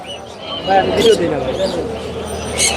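Birds at the busy Mirpur bird market in Dhaka, cooing and chirping close by amid crowd noise, mixed in with people talking nearby.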